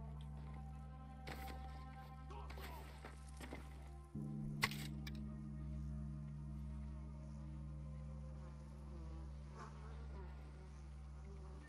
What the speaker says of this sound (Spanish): Hay avispas, pero no deben de estar enfadadas